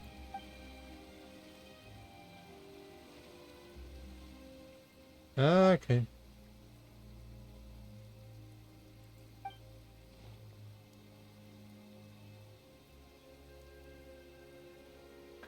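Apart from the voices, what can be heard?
rain falling in the video game Genshin Impact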